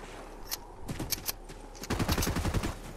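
Gunfire in Fortnite: a few sharp isolated shots, then a rapid burst of automatic fire near the end, moderately loud with no talk.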